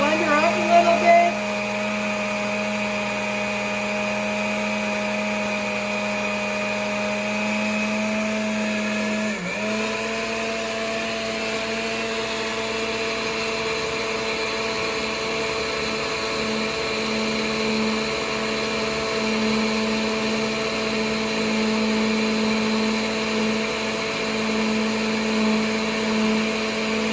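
A blender runs steadily while olive oil is emulsified into a salad dressing, a continuous close motor whine with a brief pitch dip partway through, alone without talk.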